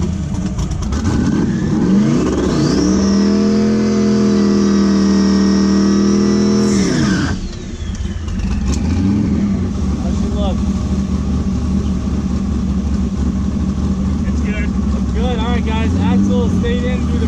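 A drag race car revs loudly at the track during a practice pass, engine holding a steady high roar for several seconds before cutting off, then rough idling and crackling with people talking over it.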